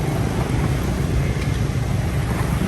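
Motorbike traffic streaming along a Saigon street at night, a dense, steady low drone of engines passing close by with no breaks or distinct horns.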